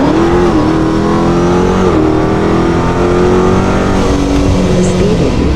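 A car with a 426 engine accelerating hard, its loud, close engine note climbing steadily through a gear change, with a brief dip and a strong sustained roar and road noise.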